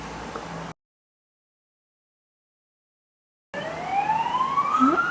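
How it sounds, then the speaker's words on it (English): Emergency vehicle sirens on a main road, faint and distant after a silent gap, with a rising wail climbing steadily over low traffic rumble. "More sirens."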